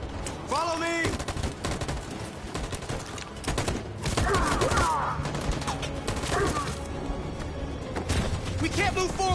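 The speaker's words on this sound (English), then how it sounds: "That machine gun is taking down everything that moves!" Sustained machine gun fire from a battle in the video game Detroit: Become Human, loud dense bursts over a game soundtrack, with voices shouting orders in between.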